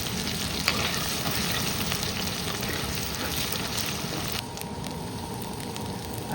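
Hot oil sizzles and crackles steadily throughout as garlic and ginger fry, with occasional stirring scrapes and a slight drop in hiss near the end.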